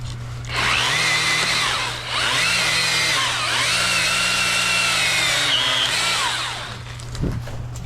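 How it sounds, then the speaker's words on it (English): A power saw cuts through a storm-damaged tree branch near a house, its motor revving and bogging in long loud surges with a steady low hum underneath, then winding down at the end. "Can you hold this while I cut this one branch?"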